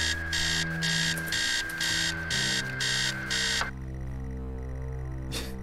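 A loud electronic alarm clock beeps in rhythmic bursts inside the Stories Untold horror game, then cuts off partway through, leaving a low droning hum and one faint later blip.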